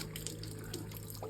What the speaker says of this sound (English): burp out the air, let water just run through it